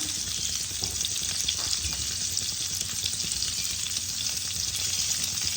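Steady close sizzle of pointed gourd (potol) frying in a pan on low heat with turmeric, a continuous bright hiss with soft scraping stirs and small crackles throughout, no voices.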